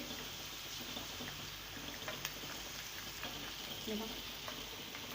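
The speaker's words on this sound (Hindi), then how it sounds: "अदरक लहसुन को हमने उसकी स्मेल ख़त्म होने तक चमचा चलाते रहना है, उसको भून लेना है अच्छे से।" Ginger and garlic fry in hot oil while a spoon stirs them, a steady soft sizzle with light scraping and tapping throughout, close and unbroken.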